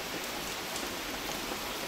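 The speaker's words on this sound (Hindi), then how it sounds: "एकदम जोरों से बारिश हो रही है" Heavy rain pours down steadily outdoors, a dense continuous hiss of drops striking surfaces at a soft, even level with no other sounds standing out.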